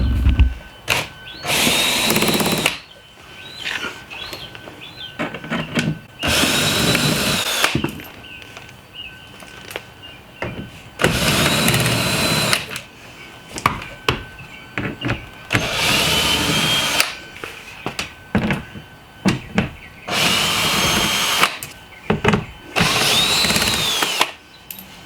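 A power drill whirs in repeated bursts while removing screws from the deflector of a C7 Corvette, about six spaced runs of steady high whine with quiet gaps between, close up and alone.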